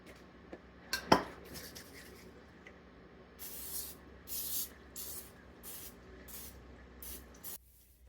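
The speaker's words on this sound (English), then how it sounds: "I'll just use some cooking spray to finish it" Several short hissing bursts of cooking spray follow a clink of metal and dishes, each spray brief and close, in a quick irregular series.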